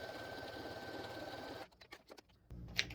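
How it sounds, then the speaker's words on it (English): Sewing machine stitching quilt fabric, a steady close mechanical whir running continuously before cutting out into a few brief clicks and handling noises, then resuming. "So you're basically sewing it together exactly like you've cut it."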